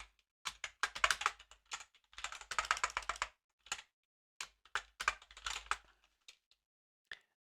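Computer keyboard typing during a live coding session, quick bursts of close, crisp keystrokes separated by short pauses, fairly quiet with no talking.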